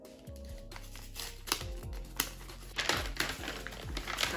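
Paper wrapping around a Fenty perfume box is pulled open, giving close, crisp crinkling and rustling with sharp tearing bursts over a low background tone.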